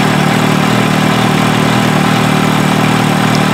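Kawasaki Ninja H2 supercharged motorcycle with upgraded supercharger gears and velocity stacks, idling steadily with a loud, constant engine drone close by and no other sounds.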